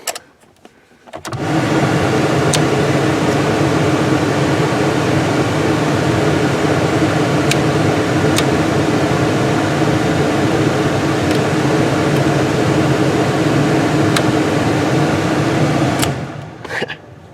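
Blower motor of a Dodge Durango switches on and runs with a steady loud whirring drone, sharp clicks scattered through it, then cuts off near the end.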